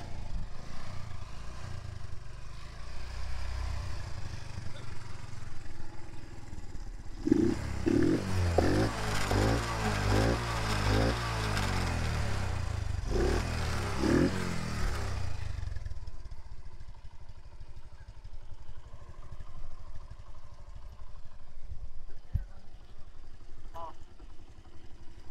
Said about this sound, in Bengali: বাইকটা স্টার্ট করার পর আপনারা দেখবেন বাইকের সাউন্ডটা কেমন লাগতেছে